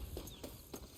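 Horse hooves clip-clop in the video game Red Dead Redemption 2, set in Mexico: three faint, evenly spaced hoof falls, quiet and alone.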